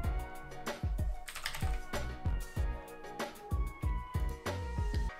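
Keys on a computer keyboard are tapped in quick, irregular bursts of crisp clicks close to the microphone, with no talking over them.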